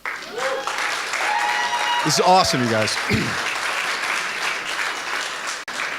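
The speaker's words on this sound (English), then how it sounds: "one last big fat round of applause for these two guys" Sustained audience applause fills a startup launch party in Seattle, steady and loud throughout, with a voice speaking briefly over the clapping partway through.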